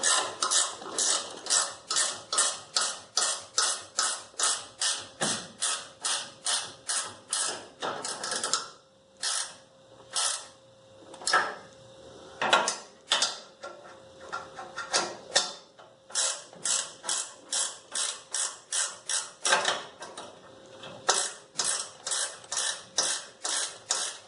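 A ratchet wrench turning down the bolts on a tow bar during installation, with long runs of rapid, evenly spaced clicks, close and loud, broken by short pauses and repositioning.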